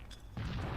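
A grenade explodes in the video game Halo 2: after a brief quiet moment, a sudden muffled boom begins and rolls on as a sustained low rumble.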